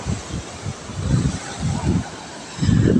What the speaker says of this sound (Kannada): ಗಾಳಿ ಬೀಸ್ತಾ ಇದೆ, ವಾಯ್ಸ್ ಕ್ಲಿಯರೆನ್ಸ್ ಬರಲ್ಲ.